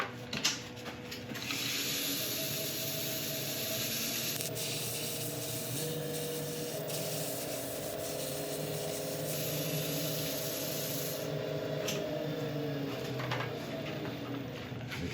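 Cloth wiping isopropyl alcohol over a sanded resin and mahogany turning on the lathe, a steady close rubbing hiss over a constant motor hum, with the pressure and texture shifting partway through.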